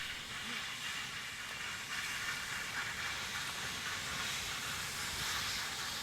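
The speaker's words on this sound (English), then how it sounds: "hadn't seen any steam trains for over 20 years when our special with Mount Gelai appeared" A broad, steady hiss like steam from a Garratt steam locomotive arriving, heard at a moderate distance and fairly faint, with no distinct rhythm.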